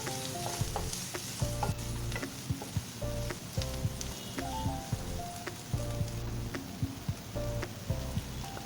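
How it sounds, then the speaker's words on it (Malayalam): Ground masala paste added to onions and curry leaves sautéing in a pan for green peas masala, with a steady close sizzle and frying crackle broken by regular scraping and stirring knocks. "സവാള ഒരു ട്രാൻസ്പാരൻ്റ് ആയി വരുമ്പോൾ നമ്മൾ തയ്യാറാക്കി വെച്ചിരിക്കുന്ന അരപ്പ് ഇതിലേക്ക് ഒഴിച്ചു കൊടുക്കാം"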